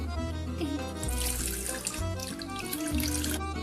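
Water runs steadily from a kitchen tap for pizza and calzone dough, a continuous close, loud gushing splash with no talking.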